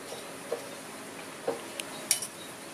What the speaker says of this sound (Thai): และคนให้เข้ากันค่ะ